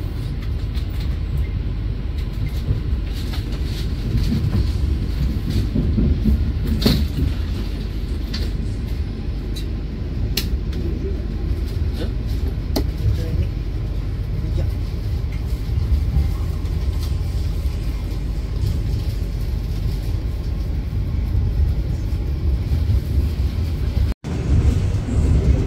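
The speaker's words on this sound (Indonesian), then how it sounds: "Kereta api Argo Semeru memasuki stasiun Solo Jebres, dan di Solo Jebres tidak berhenti ya teman-teman." Argo Semeru passenger train entering Solo Jebres station without stopping, a steady loud low rumble of rail cars rolling through continuously, with faint clanks above the drone and no talking.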